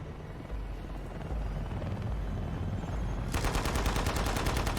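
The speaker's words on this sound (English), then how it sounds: "It's a helicopter." A helicopter's low, churning rotor drone in the video game Shadow of the Tomb Raider, joined in the last second and a half by rapid machine-gun fire in fast repeated bursts, both loud and close.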